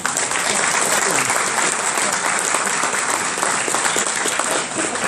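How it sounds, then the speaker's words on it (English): Loud, continuous applause fills the room at a Kentucky governor's election forum held by a realtors' association, greeting the gubernatorial candidates with dense clapping from a seated crowd. "I'd like to thank all of our gubernatorial candidates for showing up and give them a round of applause"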